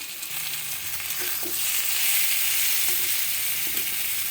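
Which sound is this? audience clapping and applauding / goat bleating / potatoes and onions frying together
potatoes and onions frying together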